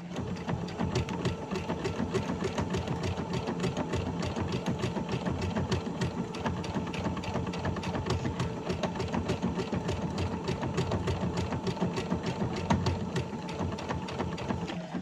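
A sewing machine stitches paper leather for a pencil case, a fast, even, rhythmic mechanical clatter running steadily throughout, close and continuous with no talking.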